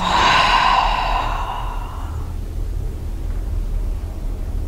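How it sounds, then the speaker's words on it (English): Deep breath released out through the mouth during a guided breathing exercise, a single long breathy exhale fading over about two seconds, close and fairly loud, followed by quiet room hiss. "Exhale out the mouth"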